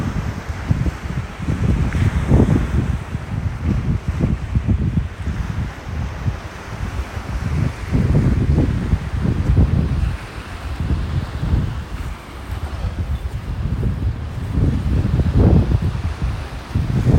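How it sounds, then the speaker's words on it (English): Surf rolls onto a beach in North Naples, Florida on a windy morning, loud repeated wave crashes every few seconds over constant wind buffeting the microphone, no speech. "I wonder what these waves are bringing in here."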